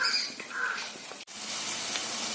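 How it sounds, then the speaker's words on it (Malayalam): Mustard and fenugreek seeds popping and onions frying in hot oil in a pan for a mackerel curry, heard as a close, steady hiss with a brief break partway through. "കടുകും ഉലുവായും പൊട്ടി വരുമ്പോൾ നമുക്ക് അതിലേക്ക് ഉള്ളി ചേർത്ത് കൊടുക്കാം"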